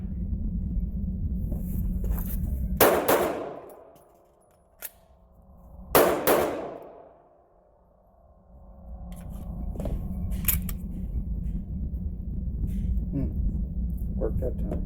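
Two sharp, loud gunshots ring out a few seconds apart from a Polymer 80 ghost gun built on an 80% lower, each trailing off in an echoing decay, with a voice talking throughout.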